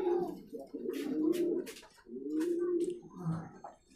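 Fancy pigeons on a farm coo in a steady series of low, throaty, rolling calls, close and fairly quiet, with faint light rustling between the coos.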